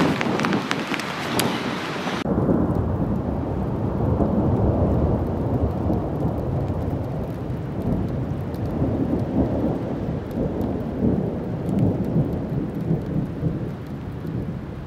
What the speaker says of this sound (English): we are in the middle of a thunderstorm